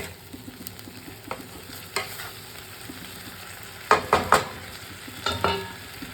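Mushroom masala with chili powder being sautéed in a pan: low frying hiss, then clustered bursts of scraping stirs, close by, in two groups toward the end.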